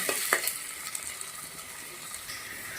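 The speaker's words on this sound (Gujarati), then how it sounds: "બટાકાને સરસ મજાના તેલના અંદર સરગવાને બધે સાંતળી લેવાનું છે." Potato and drumstick pieces fry in hot oil in a pan, giving a continuous close sizzle with a few sharper crackles and scrapes near the start.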